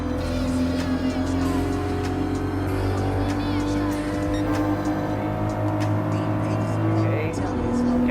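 Race car engines drone continuously in Gran Turismo Sport as a GR Supra RC is overtaken, steady high-revving whine with passing cars and faint tire squeals under a player's commentary.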